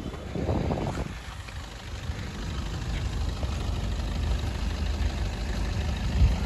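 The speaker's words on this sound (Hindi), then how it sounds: "बाहर चल के मैं आपको इंजन की साउंड सुना देता हूँ भाई डीजल इंजन की" A steady, low diesel engine idle from a Maruti Suzuki Dzire with about 120,000 km on it rumbles continuously at close range, with no talking.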